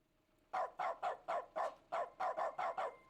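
A man imitates a dog with his voice, giving about ten quick, evenly spaced woof-like barks in a steady rhythm, loud and close to the mic after a short quiet start.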